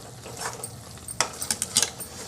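Gram flour roasting in oil in a pan, a faint low sizzle beneath several sharp, close scrapes and clinks of a spoon stirring against the metal, no talking.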